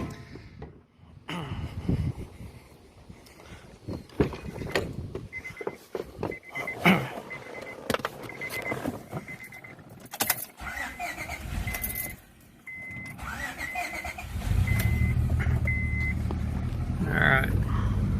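A misfiring car engine running with an uneven, stumbling rumble heard in the exhaust while driving, mixed with interior clicks and road noise that swells into a steady roar near the end.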